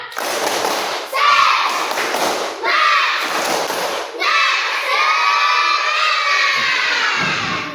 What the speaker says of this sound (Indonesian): 1, 2, 3, mulai tepuk semangat